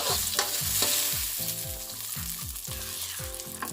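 Fried garlic goes into a hot pan for a pickled mustard greens curry with pork ribs and fresh tamarind, a loud continuous sizzle running under a repeating rhythmic tonal pattern.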